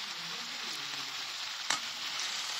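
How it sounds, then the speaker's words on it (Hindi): Potatoes frying in a pan over an angethi stove, a steady close sizzle with one brief sharp clink partway through and no talk. "देखिए हमने आलू डाल दिए हैं, अब इसमें हम डालेंगे टमाटर अपने"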